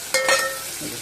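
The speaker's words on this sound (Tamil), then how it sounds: "வெங்காயம் போட்டுட்டேன், கொஞ்ச நேரம் வதங்கட்டும்" Onions frying in oil for vadakari, a brief close sizzle with a quick stirring scrape and a faint ringing clink, fading as it goes.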